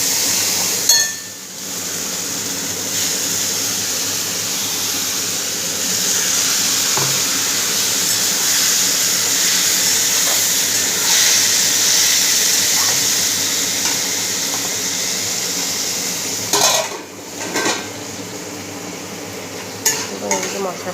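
Ground spices with coriander powder fry with a splash of water in a pan, a loud continuous sizzle with occasional clinks and scrapes of a stirring spoon, no voices.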